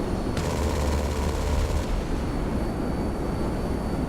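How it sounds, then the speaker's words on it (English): B-11 Strike Force jet's cannon fires in GTA 5, a dense rapid buzzing burst lasting under two seconds over a steady jet engine roar that continues afterward. "the cannons make a very unique sound when firing them"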